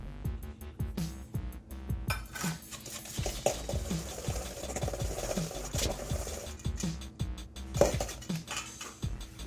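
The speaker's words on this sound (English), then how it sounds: "Start off by beating the eggs, melted butter, and sugar vigorously in a bowl." A whisk or fork beats eggs, melted butter and sugar vigorously in a bowl for pizzelle batter, giving a steady run of fast scraping clinks against the bowl. It stays quiet, close and continuous, with no talking.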